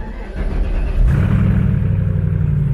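A turbocharged Camaro Z28 engine cranks and catches with a burst of revs, then settles into a steady, deep idle rumble close by.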